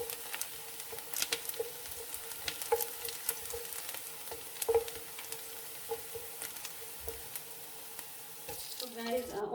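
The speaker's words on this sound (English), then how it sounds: "So guys, our onions are cooking" Onions frying in a pot for a fish coconut stew, a steady close sizzle with occasional stirring scrapes and soft popping throughout.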